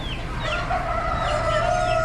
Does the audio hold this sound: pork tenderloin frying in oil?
no